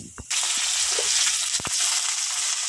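Sweet potato leaves drop into a pan of frying ginger, garlic and onion, setting off a sudden loud, bright sizzle that carries on steadily, broken by a few faint knocks of a utensil.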